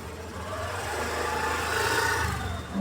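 An Activa scooter engine runs steadily near a home, a low continuous hum and drone that holds at a fairly even level throughout, with no voices heard.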